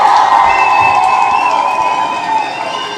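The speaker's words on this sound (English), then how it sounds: "Let's give her another round of applause." A crowd gathered for a talk by Dr. Keisha David cheers and applauds, a steady, loud wash of clapping and whoops that fades slightly toward the end.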